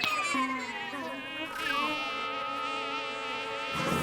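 A mosquito whines continuously, a thin high buzz that rises and falls in pitch as it moves near and away, fairly close, with no talking.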